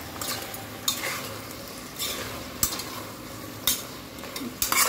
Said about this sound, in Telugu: ఒక 2 నిమిషాలు ఫ్రై చేసుకొని తర్వాత రైస్ యాడ్ చేద్దాము